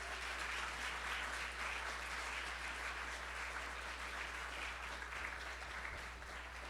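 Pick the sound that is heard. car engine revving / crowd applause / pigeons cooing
crowd applause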